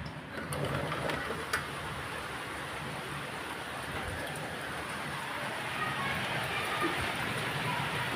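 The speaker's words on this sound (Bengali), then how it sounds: "বৃষ্টি পড়ছে, মেঘ ডাকছে" Rain falling steadily during a thunderstorm, a soft continuous hiss with scattered drip-like ticks and one brief sharper knock.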